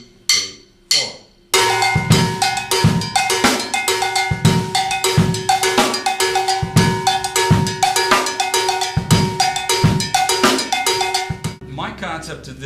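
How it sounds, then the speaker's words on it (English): A large bell struck in a steady pulse pattern, loud, close and evenly spaced, with drum-set hits underneath and a few isolated strikes before the groove settles in. "Now I'll play that on this large bell. It sounds like this."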